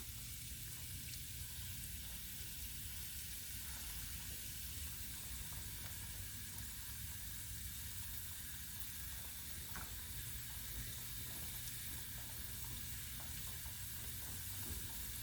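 Vegan crab rangoon fry in hot oil until golden brown, giving a steady, dense sizzle and hiss that holds level throughout with no talking.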